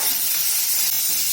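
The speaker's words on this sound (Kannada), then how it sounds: "ಸ್ವಲ್ಪ ಎಣ್ಣೆಯನ್ನು ಹಾಕ್ಕೊಂಡು ಚೆನ್ನಾಗಿ ಹುರ್ಕೊಂಡೆ" Tomato, green chilli and garlic fry in oil in a pan, a steady close sizzle and crackle with faint stirring, loud and continuous throughout with no talking.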